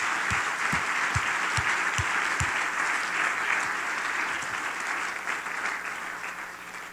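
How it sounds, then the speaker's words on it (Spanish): A church congregation claps loudly and steadily, a dense round of applause with a few sharp individual claps near the start, easing slightly toward the end. "Denle un fuerte aplauso al Señor."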